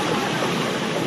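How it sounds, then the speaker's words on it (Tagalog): Heavy rain pours steadily over a flooded street in Moriones, Tondo, Manila, a dense, continuous hiss of water with no pauses and no voices over it. "Lakas pa rin ng ulan oh."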